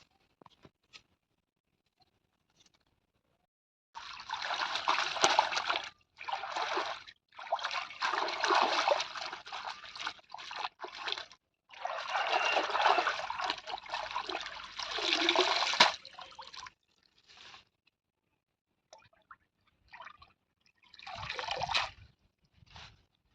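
Water splashes and sloshes in a tank as red spinach is washed by hand, coming in irregular bursts of a few seconds each with short quiet gaps between them.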